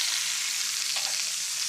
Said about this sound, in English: That sizzle is a good sound.